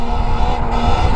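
A 72v Sur Ron and an E-Ride Pro SS electric dirt bike ride off-road together, a loud rushing roar of wind and tyre noise with a steady motor whine, close and continuous.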